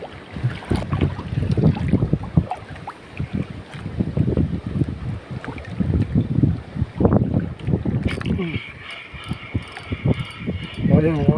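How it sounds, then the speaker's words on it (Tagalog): Strong wind buffets a small fishing boat out at sea off Baradero Bay, Oriental Mindoro, a steady rough roar with rumbling gusts and water movement throughout, growing harsher near the end. "malakas yung hangin, pati current."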